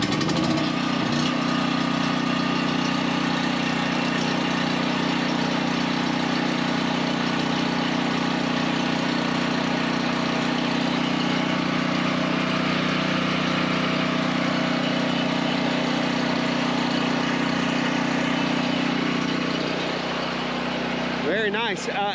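A gas-powered portable generator, just started after connecting the battery and setting the choke, runs at a loud, steady drone for the whole stretch, with no letup and no other sounds above it.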